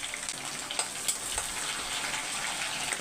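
Curry leaves and green chillies frying in hot oil for sambar give a steady close crackling sizzle with a few sharper pops, heard alone.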